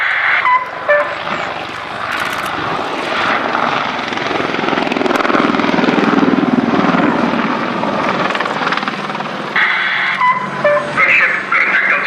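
A military gunship helicopter flies a display at the Royal International Air Tattoo at RAF Fairford, its loud rotor and engine roar continuing steadily throughout, with faint announcer commentary underneath.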